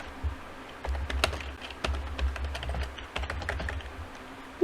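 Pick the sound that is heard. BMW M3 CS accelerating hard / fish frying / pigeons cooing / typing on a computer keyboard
typing on a computer keyboard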